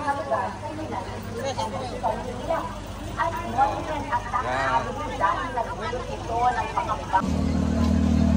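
A queue of vehicles at a rally rolls past one after another, engines rising and falling in a steady succession of passes amid crowd chatter and someone talking close by.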